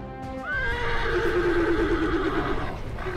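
A horse whinnies loudly and close during a children's riding training session ahead of the Soma Nomaoi samurai horse festival in Japan, a single long neigh that rises then trails off in a shaky descending whinny.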